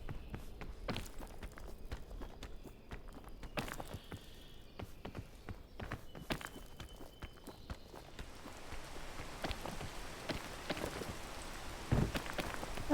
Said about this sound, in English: The rain's just annoying.